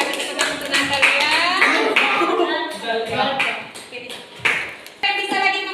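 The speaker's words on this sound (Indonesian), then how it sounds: "Kita kasih tepuk tangan untuk Natalia." A classroom group applauds, with a dense patter of many hands clapping close by, mixed with voices and scattered louder claps.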